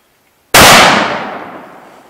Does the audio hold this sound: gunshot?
yes